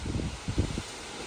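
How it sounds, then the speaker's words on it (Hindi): Strong wind gusts buffeting the microphone outdoors beside swaying trees, a low rumbling roar that surges in a few bursts and then eases to a steady hiss. "देखो कितनी तेज़ हवाएं चल रही हैं।"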